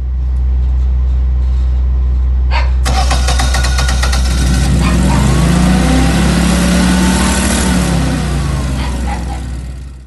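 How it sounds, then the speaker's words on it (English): Generac standby generator with an overspeed fault (error code 1205) cranks, catches and revs up loudly, running roughly for several seconds before starting to wind down, heard close over a constant low hum. "the generator tried to start but shuts down with an error code 1205"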